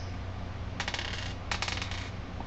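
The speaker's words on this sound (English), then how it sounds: "It sounds like 2 10s were rolled." Two ten-sided dice rolled across a table in a tabletop roleplaying game, two short bursts of light plastic clatter, each a quick cluster of rattling clicks, close and quiet against a low background hum.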